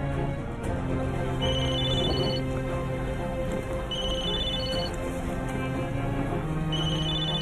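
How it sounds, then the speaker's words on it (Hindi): A mobile phone rings during a dubbed Turkish drama scene, its repeating electronic ringtone melody chiming over a steady background bed. No one speaks. "सैनब फोन उठाओ।"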